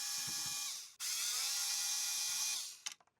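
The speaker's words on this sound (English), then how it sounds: "let's just get these screws out of here and get this open" A power screwdriver whirs loudly in two sustained bursts with a short break between them, backing screws out of a SEGA Dreamcast console casing, then ends with a few quick rattling clicks.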